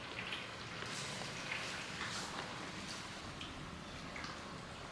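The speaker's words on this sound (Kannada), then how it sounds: "ಅಕ್ಕಿ ಹಾಕಿ ಈಗ ಅದ್ರ ಮೇಲೆ ಬಿಸಿನೀರು ಹಾಕೊಳ್ಳೋಣ" Hot water poured over rice in a pot while making homemade dhone biryani, a soft, steady splashing hiss that runs evenly throughout, fairly faint and close, with no voices.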